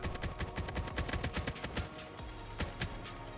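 Rapid automatic gunfire in the mobile shooter game COD Mobile, dense bursts of sharp shots in quick succession with a few heavier single reports, loud and close.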